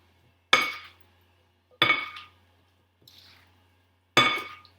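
Salad being tossed with dressing in a bowl, heard as four separate clinks and scrapes of utensils against the dish, spaced a second or more apart, with one softer stroke among them and quiet between.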